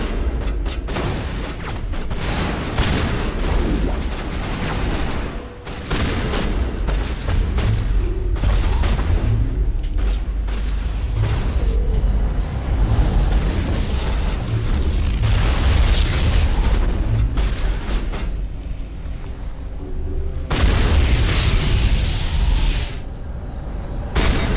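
Sustained gunfire and heavy explosions in the Mass Effect Legendary Edition video game, with loud booms and bursts of shots layered continuously over a dense battle din.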